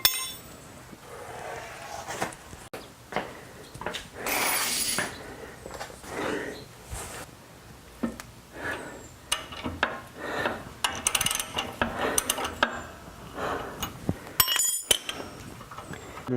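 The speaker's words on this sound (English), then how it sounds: "I'll just need to get a big wrench on that" Metal wrench work on a shock absorber bolt of a 1966 Buick Riviera, a run of close, loud clinks and ratcheting clicks with scraping and tapping, irregular and busy throughout, with no talking.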